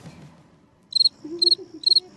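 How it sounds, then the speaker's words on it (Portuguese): Cricket chirps added as an editing effect: three short, evenly spaced bursts of bright, trilling insect chirping over a quiet background, with a faint low murmur in between. "Agora o editor vai colocar aquele barulhinho de grilo, assim."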